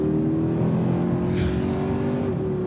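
An AMG C63 car engine holds a steady, droning rev at a constant high pitch, loud and close, with no talking.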